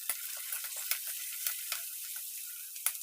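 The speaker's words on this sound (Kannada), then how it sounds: "ಈರುಳ್ಳಿನ ಹಾಕ್ಕೊಂಡು ಫ್ರೈ ಮಾಡ್ಕೊತಾ ಇದ್ದೀನಿ" Onions, green chillies and curry leaves sizzle and crackle in a hot pan close up, with a continuous frying hiss broken by small pops and stirring scrapes, and no talk.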